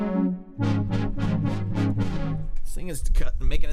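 Synthesized brass patch on an Arturia SQ80 V software synth: a run of five sustained, swelling harmonic chords with bright attacks, followed by quicker gliding notes, loud and close with no talking.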